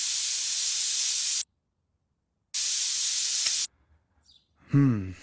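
A pressure cooker lets off loud, harsh steam in two long bursts with a pause of silence between them, followed by a short burst of voice.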